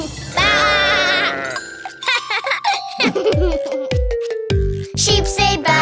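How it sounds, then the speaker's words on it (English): A sheep bleat from a children's nursery-rhyme song opens the clip, a loud, wavering call, followed by a musical backing with sung and giggling voices and more animal-like bleats. "Sheep say bah."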